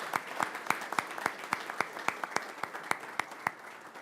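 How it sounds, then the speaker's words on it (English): A small group at a Radford city council meeting claps for the local police, sparse and distinct hand claps ringing out one by one at a steady pace, fairly quiet in a room. "I think deserving of another round of applause for our Radford Police"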